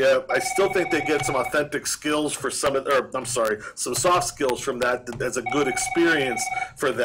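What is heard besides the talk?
mobile phone ringing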